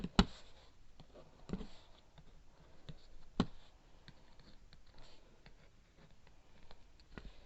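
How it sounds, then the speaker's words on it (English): A pen taps and scratches on paper as paragraph numbers are written, with quiet intermittent clicks and strokes close to the microphone and no speech. "Let's write our numbers next to them."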